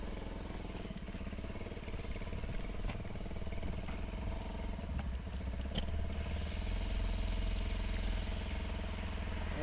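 A scooter engine runs after a tune-up, a quiet, even idle with a low steady drone and faint mechanical clatter throughout.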